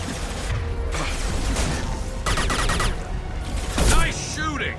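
Mass Effect 2 combat plays out as dense bursts of gunfire and mechanical weapon noise, with a heavy thump near the end, all under a steady wash of music and effects while voices call out.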